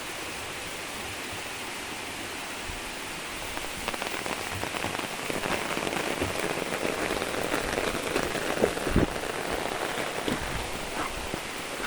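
Steady rain pours onto surfaces beside a freshwater fishing spot in Kerala, a dense, even hiss with scattered louder drops and no voices.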